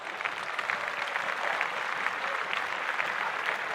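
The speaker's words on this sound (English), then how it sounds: "So clap that up for him." Steady audience applause during a talk show episode: dense, even clapping from a studio crowd, moderately loud and sustained throughout with no voices over it.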